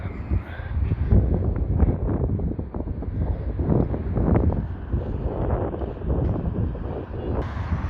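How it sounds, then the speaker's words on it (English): Strong wind buffets the microphone in continuous, uneven gusts, a loud low rumble that surges and eases throughout. "That wind's doing me head in."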